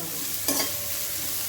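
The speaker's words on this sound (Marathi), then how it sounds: "आता हे बघा मी आता कांदा टाकते. कांदा हलकासा नरम होईपर्यंत भाजून घ्यायचा." Chopped onion dropped into hot oil in a pan after garlic has browned, a brief burst of sizzle followed by a steady, even frying hiss.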